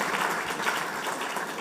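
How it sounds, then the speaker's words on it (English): Steady, moderately distant applause from a seminar audience at an international trade event, an even wash of claps with no pauses. "I thought you would clap at this point."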